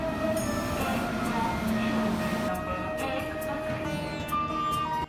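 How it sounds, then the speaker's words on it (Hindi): A Mahakumbh special passenger train rolls into the station with a continuous loud rumble of wheels and carriages and faint squeals, steady throughout. "फिर कुछ समय इंतजार करने के बाद हमारी महाकुंभ स्पेशल ट्रेन भी आ जाती है।"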